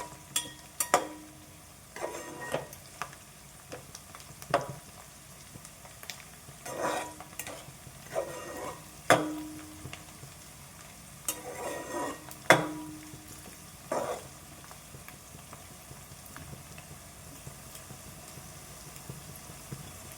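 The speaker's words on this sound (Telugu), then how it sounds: "మనకి ఉల్లిపాయలు బాగా ఫ్రై అయిన అవసరం లేదండి, జస్ట్ కొంచెం వేగితే సరిపోతుంది." Onions fry in a pan for a village-style bottle gourd curry, with a soft, steady sizzle. Light scrapes and clinks from stirring with a utensil come at irregular intervals.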